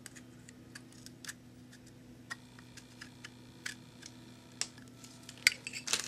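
A cheap $1 Walmart knife slicing open a package: faint, sparse clicks and small scratchy cuts at irregular intervals, getting a little louder and busier toward the end, with no talking.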